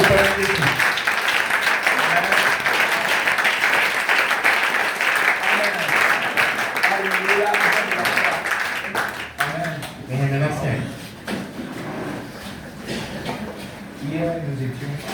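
A church congregation applauding and cheering for Jesus Christ, with steady dense clapping and voices mixed together throughout and a spoken voice rising over the crowd.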